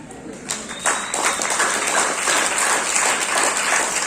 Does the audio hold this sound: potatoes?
no